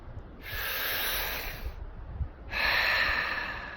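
Two long, forceful exhales during Wim Hof style breathing, each a broad breathy rush lasting over a second, separated by a short pause. Both are close and loud, with no talk.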